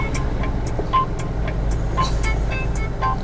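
Large truck labouring up the Gumitir mountain road, a steady low engine rumble close by amid continuous roadway traffic noise, with faint intermittent higher tones over the top.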